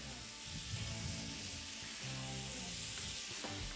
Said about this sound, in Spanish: Sofreímos.